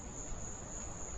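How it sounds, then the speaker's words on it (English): Crickets chirp at night in a steady, high, continuous trill, faint and distant in the background over a soft low hum. "You can hear the crickets in the background."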